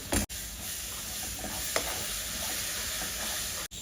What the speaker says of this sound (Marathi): आता हे छान मिक्स करून घ्यायचे मसाले मी यामध्ये ना टोमॅटोची प्युरी टाकते